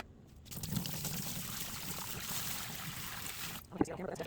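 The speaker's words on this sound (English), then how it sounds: "I drain the water and I do it again." Water pours and splashes steadily for about three seconds as a basin is drained after soaking white canvas shoes, a broad wet rush, then stops with a small clink at the end.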